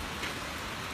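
Steady rain falls along the Madikeri–Sullia road, making a dense, even hiss that holds at a constant level for the whole second, with no voices.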